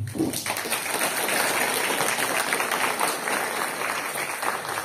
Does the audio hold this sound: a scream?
no